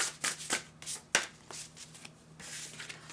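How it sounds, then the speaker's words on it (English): A deck of tarot cards being shuffled by hand, with quick riffling bursts and soft slaps in an irregular rhythm, close and fairly quiet with no talking. "let's get one from this deck and make sure I'm shuffling it upright"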